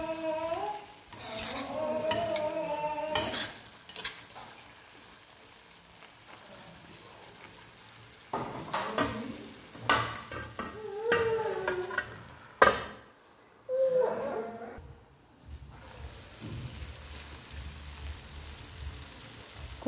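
A curry stirred in a pan on the stove, with a steady sizzle and the spoon scraping and clinking against the pan in irregular bursts, close up, fading to a quieter simmer near the end.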